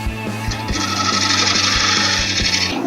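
Wood lathe spinning a bowl blank while a gouge smooths the surface, a steady bright scraping hiss over a low motor hum, continuous and close, with no talking.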